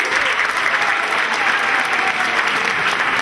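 Steady, loud applause from a crowd at a children's show, dense clapping filling the whole stretch without a break.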